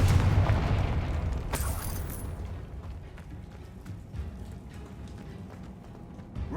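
A deep explosive boom from a Confringo spell in Hogwarts Legacy bursts near the start and rolls off into a long fading rumble, followed by lighter scattered impacts and a fresh thump at the very end.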